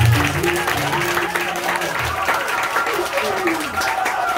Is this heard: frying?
no